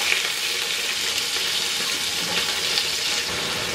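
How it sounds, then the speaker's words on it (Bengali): Potatoes fry in oil in a wok, giving a steady, close, dense sizzling hiss that runs unbroken and evenly loud for the whole stretch. "একটু সময় নিয়ে আলুটা ভাজতে হবে"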